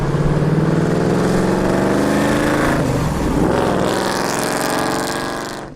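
A Chevelle SS muscle car's big 7.5-liter V8 rumbles loud and steady, its tone shifting mid-way as if revving, with no talk over it.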